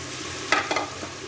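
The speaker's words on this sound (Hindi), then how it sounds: "ये ज़बरदस्त से आलू की भुनाई हो रही है" Potatoes being roasted in a masala base in a pan make a soft background sizzle, broken by a couple of short scraping stirs in quick succession.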